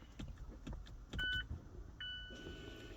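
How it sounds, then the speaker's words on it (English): Electric parking brake motors on a Mazda 6 or Mazda 3 retract the rear brake caliper pistons in brake maintenance mode, giving two short mechanical whirring bursts with light clicks and rattles, fairly close with no talking. "You'll hear the pistons retracting or pushing back out, the motors driving the pistons back out into the brake pads."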